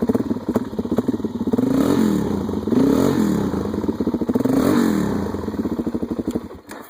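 A Suzuki DR-Z 400 single-cylinder motorcycle starts and idles nearby with a loud, fast thumping beat, its revs rising and falling a few times before settling, with no talking.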